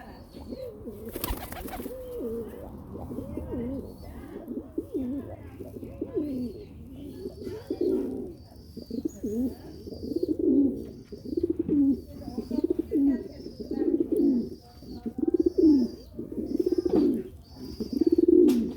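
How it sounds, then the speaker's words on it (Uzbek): Pigeons coo again and again in rolling, throaty phrases that grow louder and closer, with a short burst like flapping wings near the start. "Kaptarlar xursand, quvnoq yuribdi mana"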